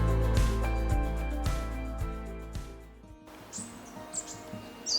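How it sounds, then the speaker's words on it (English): Rooks and jackdaws calling from linden trees at winter's end, a few sharp chirps and calls standing out over a busy background after music fades. "rooks, and jackdaws are calling in the linden trees"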